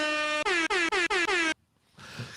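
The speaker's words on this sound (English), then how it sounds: "Gotta love the air horn." An air horn blasts five times in quick succession, loud and close, followed by a short burst of noise.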